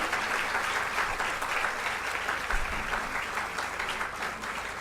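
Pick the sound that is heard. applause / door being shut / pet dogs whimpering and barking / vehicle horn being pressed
applause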